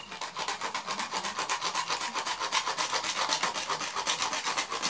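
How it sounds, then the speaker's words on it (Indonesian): A hand saw cuts through PVC pipe being made into an eel trap, a steady run of quick rasping strokes, close and fairly loud, with no talking. "Nanti kita gergaji biar cepat."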